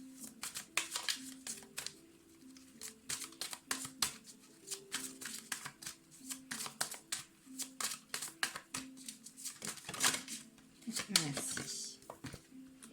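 Tarot cards being shuffled and drawn for a reading, a run of soft crisp card flicks and snaps in quick irregular bursts, close by, while someone speaks French over them.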